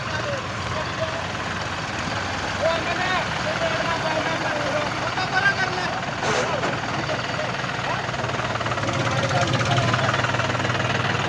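Diesel engine of a Kubota or Arjun Novo tractor pulling a loaded trolley, a steady close rumble running throughout with voices talking over it.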